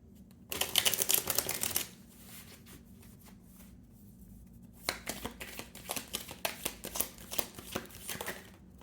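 A deck of tarot cards is riffled in a quick burst, then after a pause comes a series of crisp, rhythmic card snaps and taps, close and fairly quiet in a still room.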